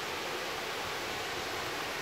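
Tatlıca waterfalls in Erfelek, roughly 30 metres high, give off a constant dense roar of falling water that stays steady throughout.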